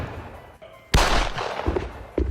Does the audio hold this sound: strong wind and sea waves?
no